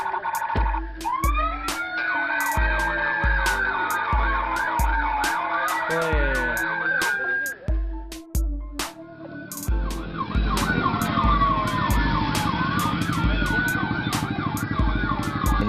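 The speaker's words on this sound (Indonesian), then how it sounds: "Ini sirine saya membuat dari alat-alat toa yang sudah tidak terpakai menjadi terpakai lagi." A homemade police escort siren built from disused megaphone parts wails with loud rising and falling sweeps, cut by rapid, repeated clicks and short yelping bursts, with no talking.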